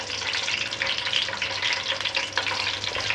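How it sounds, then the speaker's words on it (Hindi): Vermicelli roasting in oil with cardamom over a low flame, a steady soft sizzle and light crackle close by, continuous for a few seconds without any speech. "हल्की आंच पे हमने थोड़े से इसको भूनना है"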